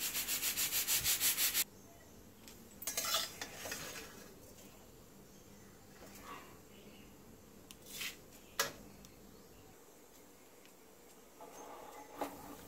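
Rice is coarsely crushed for a crispy fried rice snack, giving soft intermittent scraping and grinding rubs, with a harsher rhythmic burst at the start and scattered quieter strokes afterward.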